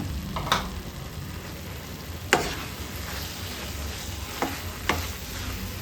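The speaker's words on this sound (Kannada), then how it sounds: "ಖರ್ಜೂರ ಫ್ರೈ ಆಗುವಾಗ ನಾವು ಪುಡಿ ಮಾಡಿ ಇಟ್ಕೊಂಡ ಕಾಯಿ ಪುಡಿಯನ್ನು ಹಾಕೊಳ್ಳೋಣ" Dates frying in a pan while coconut powder is stirred in, a low steady sizzle punctuated by a few distinct spatula scrapes spaced seconds apart, close and without voices.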